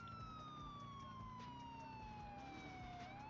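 Police car siren in the video game GTA IV, glitching and sounding messed up, wails continuously in sweeping, slowly falling tones over steady low engine and traffic rumble.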